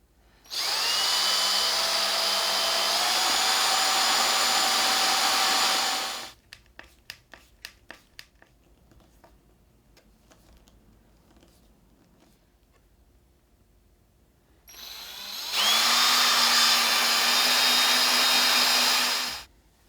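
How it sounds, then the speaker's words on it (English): A small power drill whines loudly in two sustained bursts drilling screw holes in a Warmoth Strat-style guitar, its pitch rising as it spins up, with a few sharp clicks and taps in the quiet gap between. "So I'm going to go and drill them now and fit the screws"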